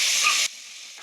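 Tomatoes and cabbage frying in a pan give a loud, close, bright hiss for about half a second, which then drops abruptly to a faint, steady sizzle.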